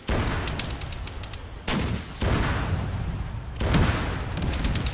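Rockets and explosions in the military game Arma 3, with repeated heavy booms and blasts over a dense, rumbling battle din, loud and close, with rapid crackling bursts of fire between the larger impacts.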